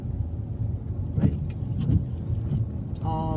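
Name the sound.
cars driving in backed-up traffic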